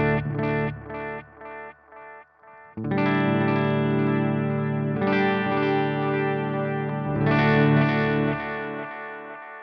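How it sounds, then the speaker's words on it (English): Electric guitar played through a Flamma FX20 delay pedal, set to a delay with a slight modulation, alone. Picked notes ring out with repeating echoes, then loud sustained chords swell and trail off in long delay tails. "Really nice delays."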